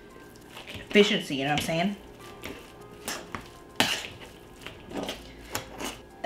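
Soft potatoes being mashed in a pot for vegan mashed potatoes, squishy thumps and scraping of the utensil against metal, several strokes in a row under casual talking.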